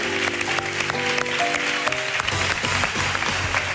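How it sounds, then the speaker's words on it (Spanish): A TV music-show studio audience gives loud, sustained applause with music playing underneath, dense steady clapping filling the whole stretch. "Un fuerte aplauso"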